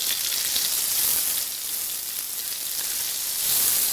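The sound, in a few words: onions frying in oil with panch phoron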